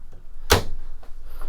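A deep kitchen cupboard door in a 2011 Sightseer caravan shuts with one sharp, close knock midway through, over a quiet room hush.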